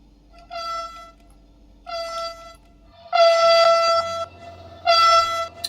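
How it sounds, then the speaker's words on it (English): Train horn from a locomotive in the simulator game Train Sim World 5, sounding four separate blasts, the last two louder and fuller, over a low engine rumble that drops away partway through. "They changed the horn on this."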